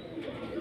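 Lahori Kasur pigeons give a soft, low cooing close by, brief and fairly faint against a steady background hum.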